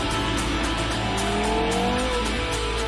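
A Porsche Carrera GT supercar roars past at speed, its engine pitch sweeping as it accelerates, with some tire squeal, loud and continuous.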